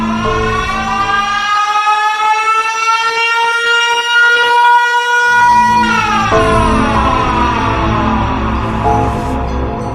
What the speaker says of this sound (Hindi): तभी साइरन हेड जोरदार आवाज निकालकर